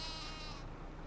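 Sheep bleating in the farming video game Farming Simulator 25, heard as a single drawn-out bleat lasting about a second with no talk over it.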